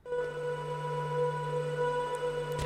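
A smooth, steady drone from granular synthesis drawn from the sustained part of a sample, holding soft stable tones with a low hum and faint shimmer throughout, fairly quiet and continuous.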